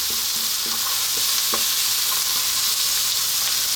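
Dhal ingredients tossed and stirred in a hot pan, a constant close hiss of frying with a few soft scraping strokes underneath, no voices.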